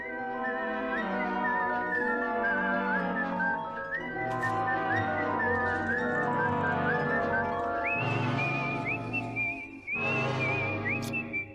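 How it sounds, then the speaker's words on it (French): A lone whistler carries the addictive melody from a film score over sustained orchestral backing, the bright whistled line steady and prominent throughout. "cette mélodie sifflée particulièrement addictive dans Twisted Nerve"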